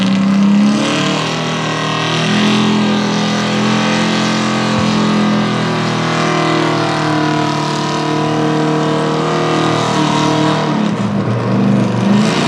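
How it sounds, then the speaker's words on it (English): A Pro Stock 4x4 pulling truck engine roars loudly and continuously at a truck pull in Western Pennsylvania, climbing in pitch under heavy load for several seconds, a sustained close-up straining howl. "another Performance Street truck hooking up Justin Rhodes with It's Good to Have a Goal."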